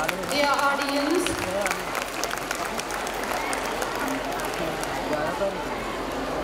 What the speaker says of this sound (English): Give them a round of applause, dear audience